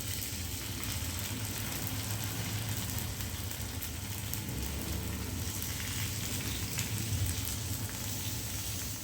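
Fish sizzles steadily in hot oil in a pan for Tamil fish fry, a dense continuous crackle with no pauses and no voices.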